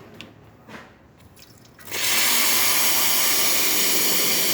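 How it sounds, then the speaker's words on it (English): Hot water bursts from the boiler of a Lelit Bianca espresso machine into a steady, loud, hissing gush after a couple of seconds of quieter gurgling and drips. "hot water coming out perfectly fine"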